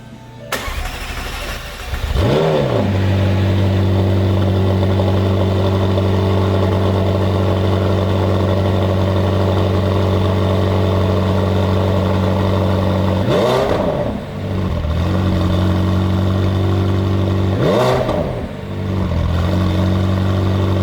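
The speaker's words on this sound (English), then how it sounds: "Can we get an exhaust note on this" A Ferrari F12 or McLaren 720S supercar engine turns over and settles into a deep, steady idle, punctuated by two sharp throttle blips that rev up and fall back.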